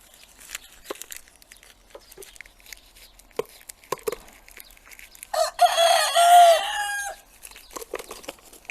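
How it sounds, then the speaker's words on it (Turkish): A single rooster crows loudly, a long rising and falling call, after several seconds of scattered soft clucks and rustling. "Bu arada burada 36 tane tavuk kaldı."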